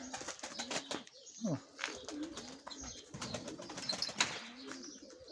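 Pigeons coo softly in repeated low, throaty calls, with rustling, a few wing flaps and faint background noise; a voice is briefly heard.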